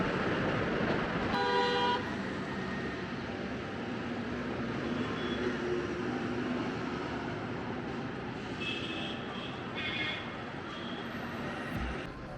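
Trucks passing on a road before daybreak, a steady roadside rumble of engines and tyres with a short horn toot near the start and faint higher-pitched tones later.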